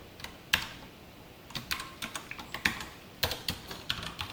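Keystrokes on a computer keyboard while writing C code with a bool type and a while loop, irregular clusters of crisp clicks with short pauses between bursts, close and fairly quiet, with no talking.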